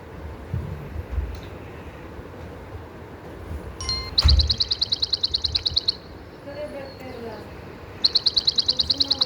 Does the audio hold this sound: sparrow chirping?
yes